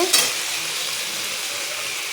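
Potatoes fry in hot oil in a wok with a steady, close sizzle and a faint early clink, with no talking.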